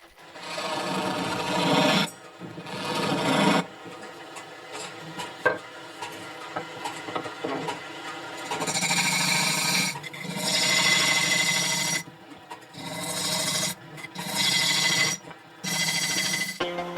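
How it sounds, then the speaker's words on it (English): A wooden vessel spins on a lathe while a turner carves its hollow interior in Japanese woodturning. Bursts of scraping and rasping come in repeated passes separated by short pauses, close and moderately loud. "finally begins to carve the inside"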